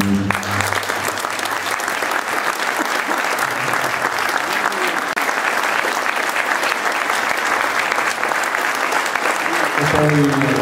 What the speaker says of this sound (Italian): Io penso che meritino veramente un applauso